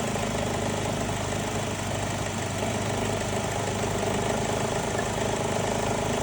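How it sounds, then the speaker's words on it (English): A Chevy Cruze AC compressor runs with a steady, loud mechanical drone and dense broadband hum that holds constant throughout, with no voices. "This is starting to go down, compressor kicked on."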